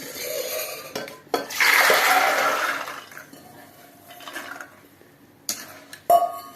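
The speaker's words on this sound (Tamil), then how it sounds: "இத ஃபர்ஸ்ட் இந்த குக்கர்ல சேர்த்துக்கலாம்" Quarter kilo of overnight-soaked white peas tipped into a pressure cooker for peas masala, a loud rushing clatter swelling for about two seconds, then softer shuffling and a few sharp knocks of metal, with no voices.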